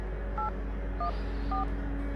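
A phone is being dialed, with three short keypad tones beeping at an even pace over a steady low background hum, and no voices.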